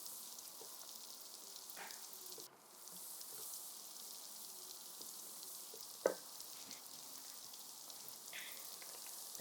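Chicken liver being stirred in a cooking pot, with a soft, steady sizzle and faint scraping clicks from the spoon; quiet and continuous, no talking.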